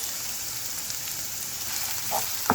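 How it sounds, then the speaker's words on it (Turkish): Green sivri peppers and red kapya peppers are sautéed in a pan, giving a steady, even sizzle close by with a faint clink near the end. "Kapya biberlerimizi de soteliyoruz."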